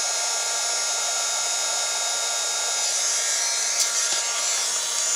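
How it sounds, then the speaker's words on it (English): Heat gun blowing steadily as it warms up for card-making with pastes and powders, a continuous breathy hiss with a slight rise in level toward the end, alone with no talk. "But it is a heat gun."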